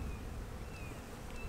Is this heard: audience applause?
no